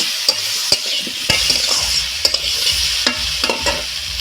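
Capsicum, onion and tomato fry with turmeric in a pan, a loud, close, steady sizzle punctuated by frequent scraping clicks of a spatula stirring.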